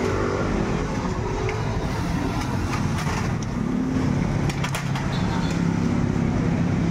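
A Honda TMX155 motorcycle with a freshly repaired carburetor runs up close, a loud continuous engine rumble with scattered faint clicks and brief bursts riding over it.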